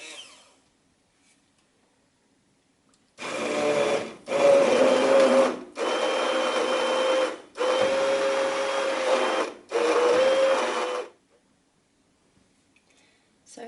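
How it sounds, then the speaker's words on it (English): A kitchen blender purees thick pumpkin soup seasoned with nutmeg, running loud in five bursts of a few seconds each with short pauses between, and near silence before and after. "So I've blended up the soup."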